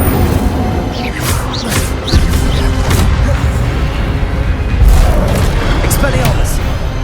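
Fire spell blasts from Incendio casting in Hogwarts Legacy, a series of loud booming bursts with crackling flare-ups over dense game combat noise, repeating every second or so.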